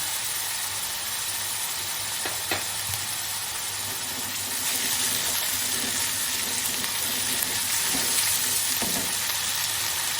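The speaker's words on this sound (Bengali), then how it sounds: "আদা রসুনের বাটা একটু দিলাম" Ginger-garlic paste sizzling in oil for a prawn curry, producing a continuous hissing, watery crackle at moderate loudness with a few faint knocks throughout.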